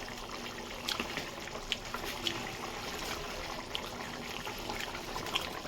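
A pot of chitol fish dumpling curry with potatoes bubbles quietly at a boil, a soft, steady simmer with faint pops and gurgles.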